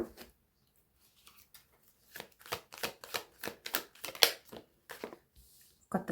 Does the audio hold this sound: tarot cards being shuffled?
yes